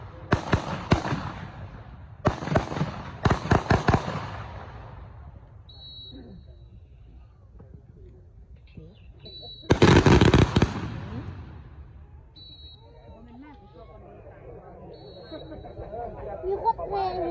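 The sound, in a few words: guns fired into the sky at army weapons demonstration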